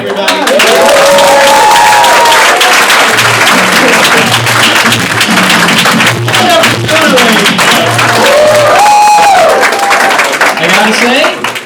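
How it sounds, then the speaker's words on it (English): Loud, sustained audience applause and cheering fill a comedy club stage show, a dense wash of clapping with whoops and crowd voices rising over it from start to finish. "Keep it going for Dan, everybody"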